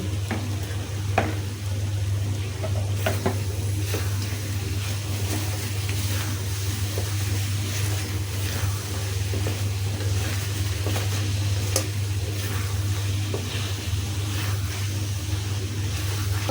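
Oil sizzles steadily in a pan while coconut chicken is cooked, a continuous frying hiss with occasional stirring scrapes over a constant low hum, with no talk.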